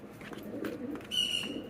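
Pigeons coo softly in a home pigeon loft, a low murmuring drone that runs through the whole moment, with a brief thin whistle rising over it near the end.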